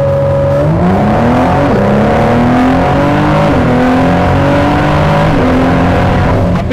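A Ford Performance car accelerates flat out on a race track in Belgium. Its loud engine climbs steadily through several gear changes, the revs dropping briefly at each shift before rising again.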